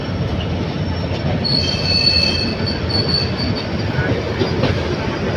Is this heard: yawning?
no